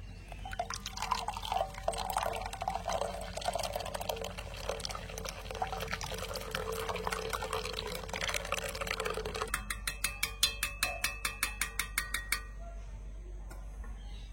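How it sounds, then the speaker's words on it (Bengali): Pressed banana juice is strained for making banana jaggery, with quiet liquid trickling and dripping, then a rapid run of light regular drips and taps near the end. "সেই রসটাকে আমি আরেকটু ভালো করে ছেঁকে নেব"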